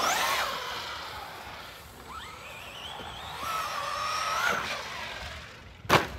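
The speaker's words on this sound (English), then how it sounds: "this truck is actually running really good" Arrma Senton 3S RC truck driving, its electric motor whining up and down in pitch as it accelerates and eases off, ending with a sharp knock or impact.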